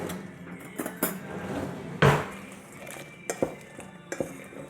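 Salad tossed in a bowl with fresh ground pepper, heard as irregular clinks and scrapes of utensils against the dish, with one louder knock midway and several sharper taps after it.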